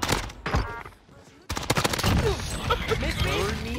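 Dense gunfire fills a Call of Duty Warzone match, with rapid overlapping shots and explosive bursts after a brief lull, loud and close, while game voices talk over it.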